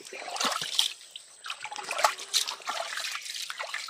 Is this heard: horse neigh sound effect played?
no